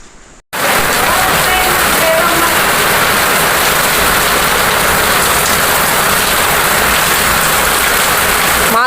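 Heavy rain pours down at night, a loud, dense, steady hiss that starts abruptly after a brief quiet moment and continues unbroken throughout, with a faint low rumble beneath it.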